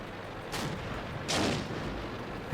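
Tank cannon shots in a World War II tank video game, two heavy booming blasts about a second apart with a rumbling tail, heard alone with no talking.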